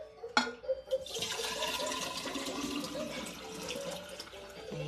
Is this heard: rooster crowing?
no